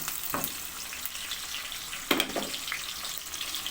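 Chopped onions frying in hot ghee over a full flame, giving a continuous crackling sizzle with a few louder spatters and stirring scrapes, one sharp burst near the middle.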